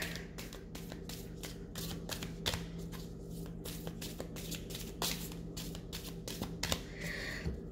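A deck of tarot cards is riffled and shuffled in quick repeated bursts, a steady papery flutter running the whole time at close range, with no talk over it.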